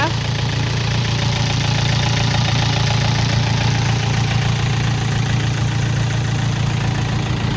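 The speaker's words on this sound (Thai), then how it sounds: "เครื่องยนต์สี่สูบเครื่องดีไม่มีอายนะคะ" A Yanmar YM351A four-cylinder diesel tractor engine idles steadily and loudly with a constant low chugging rumble, unchanging throughout with no other sounds.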